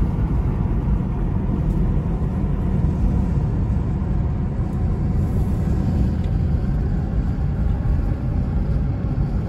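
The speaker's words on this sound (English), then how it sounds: "because there is an awful lot of traffic in town." A car drives through town in Big Bear, California, ahead of a winter storm, giving a steady, close low rumble of engine and road noise that barely changes throughout.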